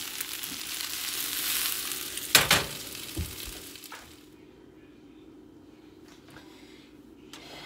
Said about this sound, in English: Sauteed green peppers and onions.